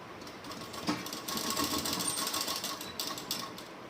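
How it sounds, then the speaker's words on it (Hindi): Sewing machine stitching a double-folded side seam on an organza suit, a steady close mechanical whir running throughout with slight rises in intensity, no talking. "फिर उसको पकड़ के अच्छे से मैं साइड में सिलाई लगा दूँगी"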